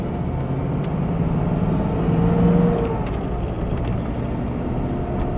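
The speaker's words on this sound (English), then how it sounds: "Man, this car drives so nice." A Ford Mustang Foxbody's engine drones steadily from inside the cabin as it drives, with a slight swell in revs midway and road noise throughout.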